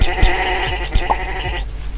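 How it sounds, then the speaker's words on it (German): Sheep in MineClone2 bleating, several short wavering bleats close up in quick succession. "Oh, wir haben verschiedene Schafe hier."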